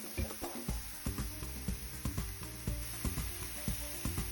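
Beef burger patties sizzle and spit on a hot griddle, a steady close frying hiss broken by repeated sharp crackles and pops, with no voices.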